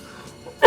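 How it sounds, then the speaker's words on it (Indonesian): A single short, sharp cough from one person, close and loud, following a moment of near silence. "Saya lagi batuk"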